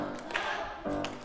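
Hands clapping a short rhythm at an art workshop, a few soft claps in a patterned sequence, fairly quiet, with a voice speaking over them.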